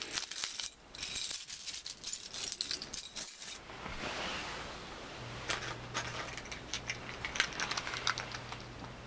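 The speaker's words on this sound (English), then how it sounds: "I've carried these keys around, various sorts, and they go everywhere." A ring of everyday keys, including a car key, jangles and clinks close by in a long run of light metallic rattles and taps, with a steady low hum beneath the later part.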